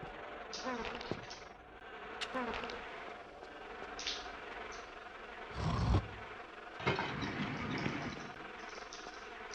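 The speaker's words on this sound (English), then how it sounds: "the wasps are among us, it seems. Or at least I can hear them buzzing." Wasps in the video game Tomb Raider 3 buzz in faint, intermittent bursts over a low ambient bed, with a few louder thumps and rustles breaking through.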